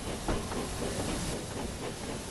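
An animated steam engine puffs away from the station with a dense, continuous hiss and soft rhythmic chuffs, steady and moderately loud throughout.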